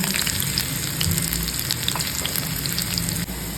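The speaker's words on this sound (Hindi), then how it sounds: "अब ये अदरक और प्याज दोनों पत्ते डाल दें।" Ginger and onion dropped into hot oil after browned garlic, giving a dense, continuous frying sizzle with small crackles throughout, fairly close and steady.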